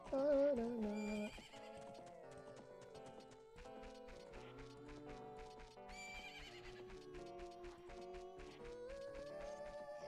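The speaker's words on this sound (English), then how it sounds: "Baby horse." A baby horse in Ocarina of Time gives a loud whinny at the start, then game music carries on steadily without further calls or voices.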